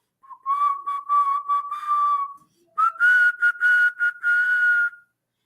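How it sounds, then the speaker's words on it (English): A melodic whistled tune in the style of Omar from The Wire, two phrases of sustained and stepped notes separated by a short pause, clear and close with no talking. "Now, Omar, he's gonna whistle at you."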